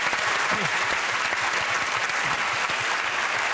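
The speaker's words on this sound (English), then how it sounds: "that applause was a little bit weak considering that's a week of his life" Studio audience applause on a comedy panel game show, a steady dense wash of clapping filling the whole stretch at moderate level without a break.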